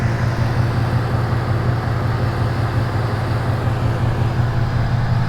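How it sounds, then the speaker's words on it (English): Steady mechanical whirr of radiator cooling fans over a low, quiet V8 idle in a 2017 Ford Mustang GT with aftermarket exhaust, constant and unchanging throughout with no talking. "All I can really hear are the cooling fans for the radiator."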